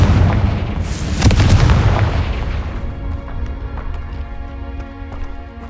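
A Confringo explosion spell in Hogwarts Legacy gives a loud, close booming burst with a crackling tail. It fades after a few seconds into ringing, tonal game music.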